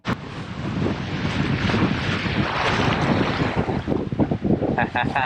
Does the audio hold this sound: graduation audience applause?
no